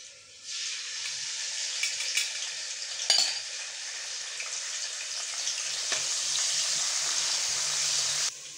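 Masoor daal nimko frying in hot oil in a wok, a loud steady sizzle with a few sharp stirring clinks of metal, close and without talk.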